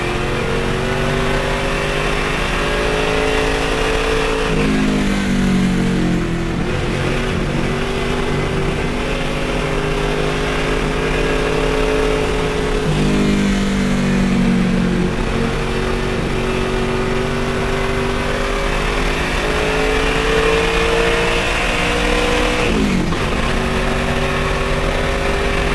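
A roughly 3,300-pound Ford Mustang race car on track, its engine loud and close, climbing in pitch through each gear, with brief drops at shifts around every eight to nine seconds.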